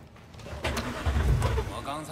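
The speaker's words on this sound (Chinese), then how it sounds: "发动引擎。" A car engine starts in the video game Cyberpunk 2077, a close rumbling crank and low rev building up under ongoing talk.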